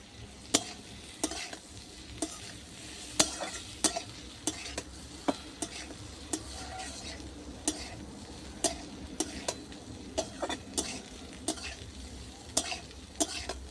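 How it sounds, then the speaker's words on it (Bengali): Egg and potato stir-fried in a pan, a continuous oily sizzle broken by regular sharp scrapes and taps of a spatula against the pan, close and steady. "সবগুলো দিয়ে ভাজা ভাজা করে নিলাম"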